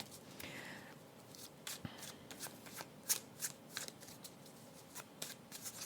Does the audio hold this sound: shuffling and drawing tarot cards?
yes